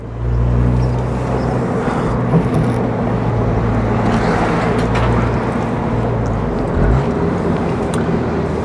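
A MINI Cooper S Convertible in sport mode drives along, its engine a steady loud drone with a deep low hum that rises in pitch near the end, mixed with road and wind rush.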